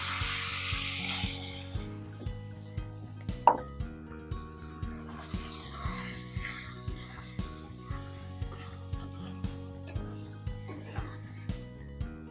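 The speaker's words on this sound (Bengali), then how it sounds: "তেল গরম হয়ে গেছে এবার মাছগুলো ছেড়ে দেবো" Small pieces of snakehead fish frying in hot oil in a kadai: a continuous crackling sizzle overlaid with a steady series of soft rhythmic clicks and taps, fairly quiet and close, with no talking.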